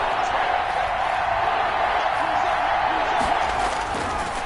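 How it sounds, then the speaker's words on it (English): A stadium crowd in Madden 21 roars continuously at a steady level ahead of a big third down in a Vikings vs Seahawks game, with commentary heard over it. "the crowd getting into it as we come up on a big third down"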